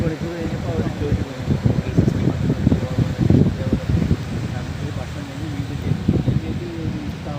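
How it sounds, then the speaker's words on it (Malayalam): Cool wind blowing across an open desert road on the way to a Qatar beach, rushing and buffeting the microphone in uneven gusts, with a low rumbling hum beneath and people talking over it. "നല്ല കാറ്റുണ്ട് തണുത്ത അല്ലേ?"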